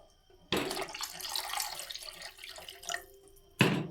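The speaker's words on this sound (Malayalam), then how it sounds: "കുറച്ചുകൂടി വെള്ളം ചേർക്കാം കേട്ടോ" Water splashes from a tap into a cooking pot for a fish dish, starting abruptly with a loud gush, running and splattering for about three seconds, then a brief second burst at the end, with no talking.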